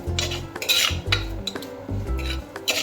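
A utensil stirring chili and pepper powder in a hot pan for Kerala-style fish curry, giving close, rhythmic scrapes and metallic clinks in quick bursts against the pan, with no talking.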